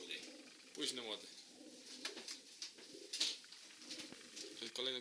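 Pigeons coo in a breeding loft in Pszów, soft repeated throaty calls rising and falling across the clip alongside nearby voices.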